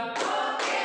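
Two sharp hand claps in a classroom clap-count game, children clapping together in unison, close and loud with a brief gap between them.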